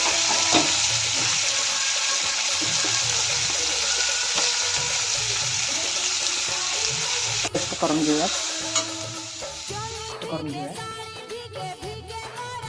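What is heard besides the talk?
roasting garlic, ginger, onion, tomato and dry coconut in a pan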